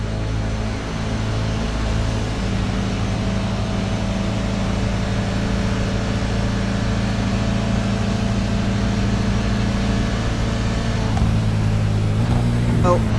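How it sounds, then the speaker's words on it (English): Andrew Sharp's race car in a GR86 and LMP3-GT4 sports-car race drones with a steady, continuous engine tone that shifts near the end as the throttle eases off; voices may be talking underneath. "I just want to listen in here a little bit to see Andrew Sharp's engine tone"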